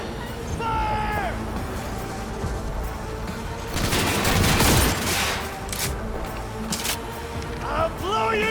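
Rapid automatic gunfire from a Cyberpunk video game firefight, loud bursts building to a dense volley midway amid game sounds, with voices shouting over the action.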